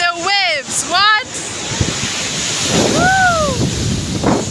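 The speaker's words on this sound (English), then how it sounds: "The water is too much. See? And the waves." Ocean waves breaking at a beach, a loud continuous roaring wash with wind buffeting the microphone, while voices call out and exclaim over it.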